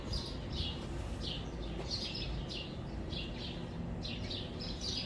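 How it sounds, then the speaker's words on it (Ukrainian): Several birds chirp and tweet in short repeated bursts over a steady background hiss, fairly distant, with no voices, near large palm trees. "Пташки співають тут."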